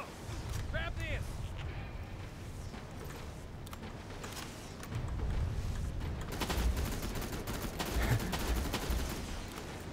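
Rapid gunfire rattles in the video game Terminator Resistance, dense bursts and booms layered at moderate level over a continuous battle din, with a player talking over it.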